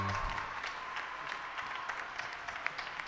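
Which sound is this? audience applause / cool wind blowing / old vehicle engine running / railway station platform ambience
audience applause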